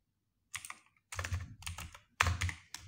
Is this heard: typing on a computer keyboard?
yes